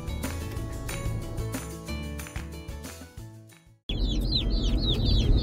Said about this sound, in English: the next sounds you should hear are little chicks chirping